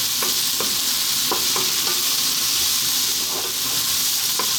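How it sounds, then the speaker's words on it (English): Chopped sausage and olives fry in a pan with a steady, loud sizzle, while a utensil stirs and scrapes through them in irregular clicks and knocks. "We're now going to drop in our sausage, which, like I said, I just chopped into some bite-sized pieces. And we're going to go for just 2 more minutes, keep it moving all the time now."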